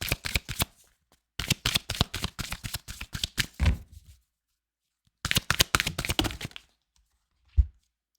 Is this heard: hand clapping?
no